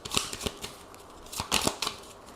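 Tarot cards being shuffled for a nine-card reading: a handful of quick, soft riffling and slapping bursts in an uneven rhythm, close and fairly quiet, with short pauses between them.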